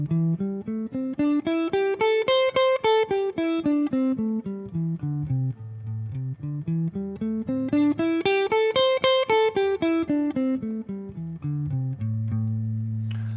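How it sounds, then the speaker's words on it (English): A single melodic instrument plays a scale up and down twice, its notes swelling louder as they climb and softening as they descend, then settles on a long low held tone. "I'm going to crescendo on the way up and decrescendo on the way down."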